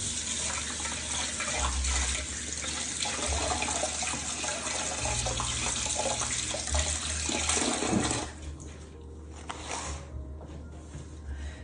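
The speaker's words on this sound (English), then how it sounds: "Let me give my hands a little rinse" Water runs steadily from a tap into a sink for about eight seconds, then shuts off, leaving faint drips and splashes behind.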